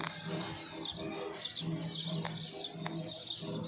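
Sparrows chirp in quick bursts on an Indian farm at evening prayer time, fairly close and continuous, with soft cooing and other bird calls mixed into the background.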